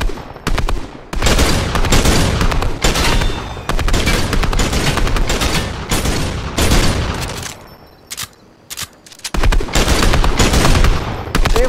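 Dense, loud video game gunfire with rapid automatic bursts and overlapping shots, pausing briefly before resuming.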